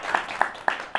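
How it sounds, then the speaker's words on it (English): A few crisp hand claps in an even rhythm, about four in a second, from a studio audience applauding teachers on a live talk show. "Let's clap for them for getting this contract."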